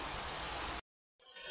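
Heavy rain falling in a Punjabi village, a dense steady hiss that stops abruptly for a moment before the downpour resumes, with no voices.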